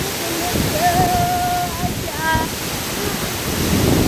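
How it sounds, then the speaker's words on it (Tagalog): Ubot Falls in Villa Aurora pours as a steady broadband rush of falling water, heard close and constant beneath brief tonal chirps and background voices. "So ayan po ang Ubot Falls sa Villa Aurora"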